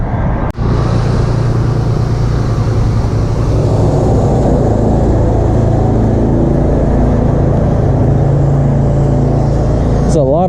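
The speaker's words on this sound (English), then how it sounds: "I'm about to pull the trailer to the drive-through side" A vehicle pulls a pressure washing trailer at a restaurant with a loud, steady engine rumble and road noise, close and continuous, with a sharp knock near the start.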